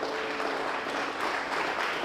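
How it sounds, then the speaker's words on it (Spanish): Congregation clapping at a church service, a steady dense wash of hands filling the room without letup, fairly faint and even throughout. "Dale un fuerte aplauso al Señor"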